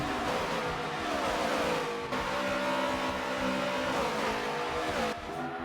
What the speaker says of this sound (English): As Dawson continues to lead here at Homestead Miami Speedway.